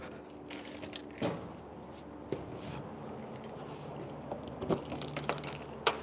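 A bunch of keys jangles and clinks near the microphone for several seconds, with a few sharper metallic rattles over a steady low background hum.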